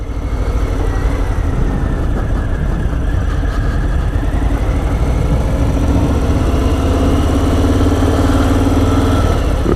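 A Harley-Davidson FLSL 1740 Slim motorcycle with its big engine running steadily, a loud, close, continuous low rumble throughout with no talking.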